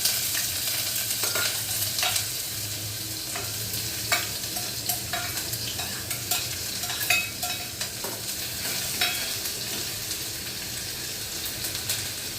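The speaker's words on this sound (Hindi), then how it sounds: "कड़ी पत्ते डालने के बाद ये मैं इसमें प्याज डाल रही हूँ।" Onion and curry leaves frying in a pan after cumin, with a soft continuous sizzle under repeated scraping stirs and light clinks of a spoon, close and moderately quiet.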